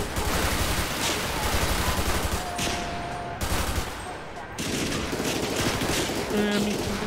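Rapid gunfire in a GTA 5 street shootout, bursts of shots crackling over a dense, loud game soundscape, with brief lulls and continuous background noise throughout.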